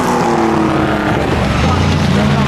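Vintage race cars at the Goodwood Revival, a loud continuous engine drone with a low throbbing rumble that shifts in pitch as cars pass, with crowd noise and some talk mixed in.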